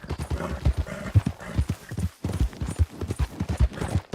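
Horse hooves clip-clop in a steady rhythmic gait in Red Dead Redemption 2, close and clear, each footfall a distinct thud repeating across the stretch, with faint background game sound.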